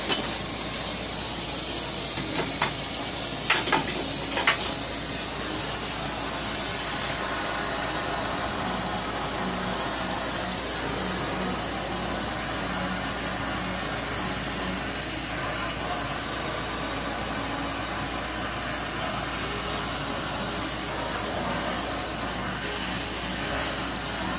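A gas torch flame hisses steadily as it burns out a frozen casting mold for silver, a continuous roaring spray sound close by, with a few faint clanks and murmured voices in the background.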